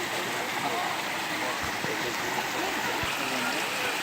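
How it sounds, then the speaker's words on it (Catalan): Water seeps and flows at the source of the Cuervo river, a steady rushing stream with faint gurgles and a couple of soft low knocks. "Així filtra l'aigua."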